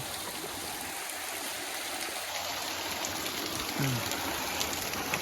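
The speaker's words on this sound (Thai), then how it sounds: "น้ำตก" A waterfall stream rushes steadily beside a hut in the forest. The broad, even hiss of flowing water fills the scene without any change, and a faint high whine and a brief low sound sit under it.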